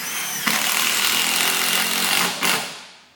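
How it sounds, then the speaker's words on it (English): A battery drill or impact driver drives a stainless steel screw into a roof bracket for a solar module installation, a loud sustained buzzing whir with a brief burst near the end before spinning down. "Very handy to get yourself a battery drill or an impact driver like this one."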